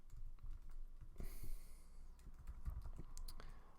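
Fingers tap quickly on a Mac keyboard while coding, with soft irregular key clicks up close and a brief rustle in the middle.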